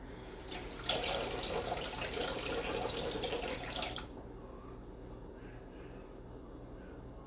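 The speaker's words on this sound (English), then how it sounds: "So, we're going to get our water now." Water runs from a kitchen tap in a steady broadband rush for about three seconds, then cuts off, leaving quiet room tone with light handling noises.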